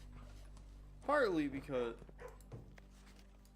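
A puppy in the kennel room of the video game Blue Prince lets out a short, rising-and-falling whimpering whine, fairly close, with someone talking before and after.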